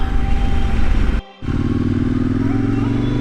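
Trail motorcycle engine pulling away on an Alpine ride, loud rough exhaust that cuts out for a moment during a gear change, then revs back up and climbs, with a voice talking over it.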